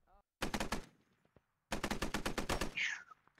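Automatic gunfire in the video game Squad: two loud, close bursts of rapid shots, the first short and the second longer, each followed by a brief sharp tail.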